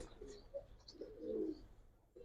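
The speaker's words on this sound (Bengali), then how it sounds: "তারপরে দেখেন একটা সিলভার কবুতর দেখাবো ভাই" Pigeons coo on a rooftop loft of Giribaz and silver colored pigeons, a low rolling coo swelling near the middle, with faint chirps and light background noise.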